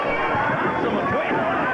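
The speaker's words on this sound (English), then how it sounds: "Crowd screaming, go, Rick, go." Crowd at a 1970s Northern California wrestling match, a steady roar of many voices yelling and cheering together, close and continuous, with individual shouts rising out of the babble.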